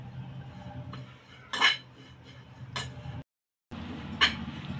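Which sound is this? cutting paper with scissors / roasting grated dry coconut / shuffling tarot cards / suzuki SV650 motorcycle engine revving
roasting grated dry coconut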